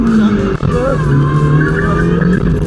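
A street car in an autotest is thrown through a 180-degree handbrake spin, its engine droning loudly with a sliding, whining pitch that rises and falls close by.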